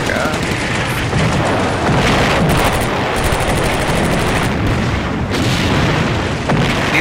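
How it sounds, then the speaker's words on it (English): Combat Mission video game battle with dense machine-gun fire and heavy artillery booms, loud and continuous with rapid bursts throughout, and a voice speaking over it. "Are they running through their own artillery fire trying to get across?"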